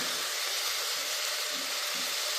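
Coriander and mint leaves frying in a pan for tomato bath, giving a steady, close hiss of sizzling oil that continues without a break, with no talk.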